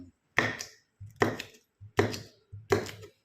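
Four crisp knife chops slicing cucumber on a cutting board, evenly spaced about a second apart, close and clear.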